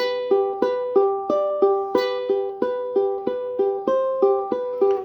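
A bright piano intro melody repeats a short rhythmic pattern of evenly spaced notes, each decaying quickly, played alone without voices.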